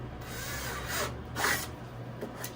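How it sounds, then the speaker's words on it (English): A drill bores access holes into a 3D printer part, a quiet steady whirring grind with a few brief louder rasping surges, no talk. "I'm gonna drill some access holes in this."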